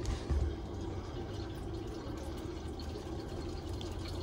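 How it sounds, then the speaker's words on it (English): Water leaks out of a furnace's primary condensate drain in a faint, steady trickle against a quiet room background. "That's the water leaking out of the primary."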